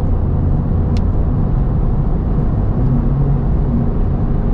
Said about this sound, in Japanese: エンジンサウンドもこれねちょっと聞いてもらいましょうか。